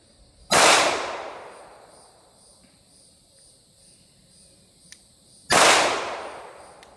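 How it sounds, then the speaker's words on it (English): A subcompact pistol with a red dot sight fires at a shooting range. Two sharp, loud gunshots sound about five seconds apart, each with a short echoing tail, over insect-like background ambience and a faint click between them. "So I'm going to shoot real quick."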